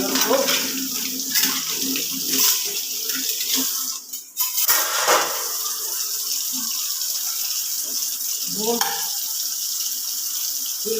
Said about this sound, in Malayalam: ഈ വാഷ് ബേസിനോടൊന്ന് കഴുകി ഇടണം.